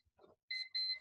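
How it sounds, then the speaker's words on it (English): An electronic device gives two loud, sustained high-pitched beeps in close succession. Faint rustling comes just before, and there is no talk. "that wasn't supposed to beep"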